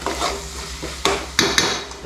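Biryani mixture turned over in a pot on the stove, a few distinct scraping knocks of the spoon against the metal over a low frying hiss, close and fairly loud.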